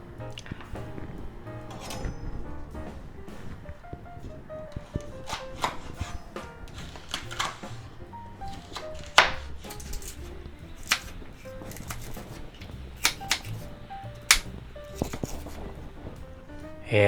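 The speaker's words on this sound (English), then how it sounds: "we'll go ahead and cut up some of these poblano green peppers" A knife chops poblano green peppers on a cutting board, producing scattered close crisp cuts and taps at an irregular pace, over a low background hum with no talking.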